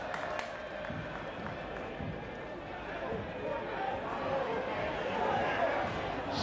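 Stadium crowd at a rugby match between Zebre and Ospreys applauding a player, a broad steady wash of clapping and crowd noise at a moderate distance that swells slightly toward the end, with no clear speech over it.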